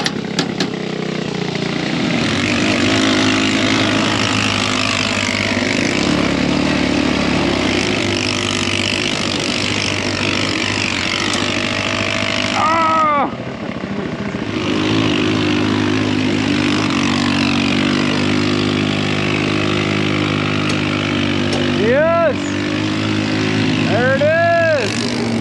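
A go-kart buggy engine drones steadily and loudly, revving and labouring on the Hell's Revenge slickrock trail, with a brief dip midway and voices talking over it.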